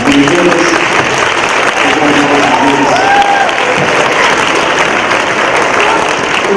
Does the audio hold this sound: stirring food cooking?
no